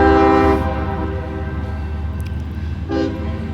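Freight train M510 rumbles past with a steady roar of wheels on rail, its horn blaring loudly at the start and sounding again briefly near the end.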